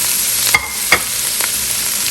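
Carrots and capsicum stir-frying in a pan for BBQ chicken noodles, a steady close sizzle with a few louder stirring scrapes, no talking.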